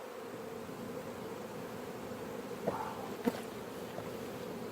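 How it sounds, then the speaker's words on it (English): Honeybees buzz steadily in an opened hive during hive inspection, a dense close drone with a couple of louder passes by individual bees. "You smoked the bees, now you're doing a bee dive."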